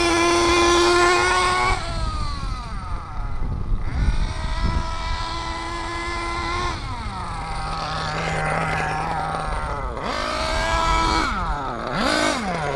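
A Reedy 121-VR nitro engine in an RC8T buggy running rich at full throttle, a loud, close, buzzing whine that holds steady, dips in pitch several times, then climbs again in short revving surges.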